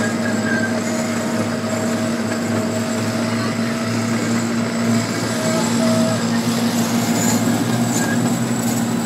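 The Tulsa Zoo train rolls steadily along its rails for several seconds, a continuous loud rumble with a high wheel whine and engine drone heard from on board, without clear talk.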